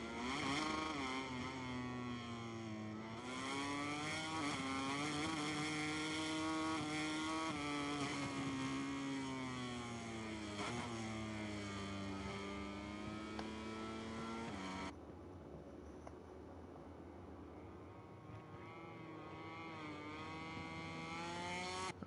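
Racing motorcycle engine in MotoGP 23 at the Italian Grand Prix, screaming at high revs with rising and falling pitch as it shifts between third and fourth gear, loud and continuous, with a brief dip in tone partway through.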